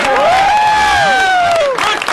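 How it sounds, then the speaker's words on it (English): A late-night show audience cheers and applauds, with loud whoops and rising, sliding shouts riding over a bed of crowd noise for about two seconds before it starts to thin out. "Come on, round of applause for Leandra."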